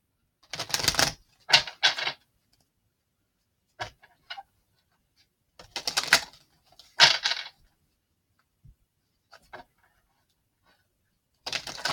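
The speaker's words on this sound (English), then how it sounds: "Shuffle these." Tarot cards are shuffled by hand in short bursts of crisp riffling and slapping, a few seconds apart, close and clear with silent gaps between.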